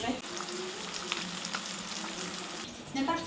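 Onions sautéing in a pan with tomatoes, garam masala and chili powder, a continuous close sizzle and crackle that holds steady throughout with faint stirring.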